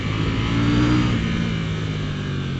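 A KTM 790 Duke motorcycle engine revving hard while accelerating on a road near Lake Garda, Italy, a loud, close, sustained mid-pitched engine drone with no one talking.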